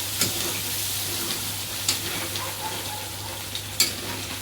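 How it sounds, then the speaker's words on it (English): Butter chicken gravy with Kashmiri chili fries in oil, giving a steady, moderate sizzling hiss. A few sharp spoon scrapes against the pot break in at intervals, and no one speaks. "Stir it, fry it, let the oil come up."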